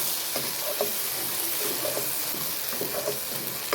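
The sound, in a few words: mixing lentil sundal mixture in a frying pan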